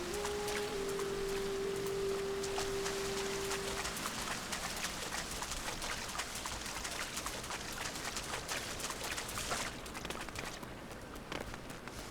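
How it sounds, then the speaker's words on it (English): Water feature in Final Fantasy XIV flows as a continuous trickling splash, with a sustained tone in the first few seconds, steady throughout before thinning slightly toward the end. "I like the water feature."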